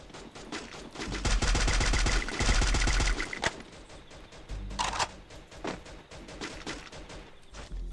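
Rapid automatic gunfire in the Free Fire mobile battle royale game, a loud dense burst of shots followed by scattered single and short bursts of fire, with no talking.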